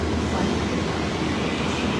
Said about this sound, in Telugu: మెట్రో ఇది ఇలా డోర్స్ క్లోజ్ అవుతుంది, వెళ్ళిపోతూ ఉంటుంది